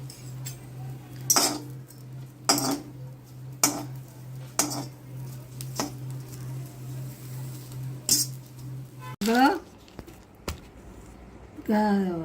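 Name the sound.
dry roasting mint and coriander in a kadhai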